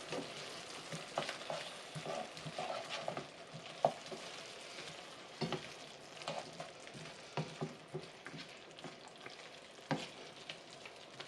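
Ingredients for French onion soup being stirred together in a hot pan: a steady sizzle with irregular scraping and clinking of the utensil against the pan, close and fairly quiet.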